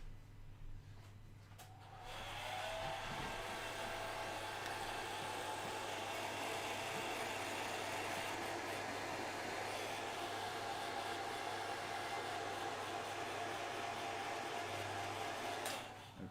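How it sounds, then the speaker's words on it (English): A hairdryer runs steadily on miniature paint, used to dry a freshly painted Space Marine model; it switches on about two seconds in and holds a loud, even whoosh until it cuts off near the end. "I'm just going to get the hairdryer on this, just to speed up the process a little bit."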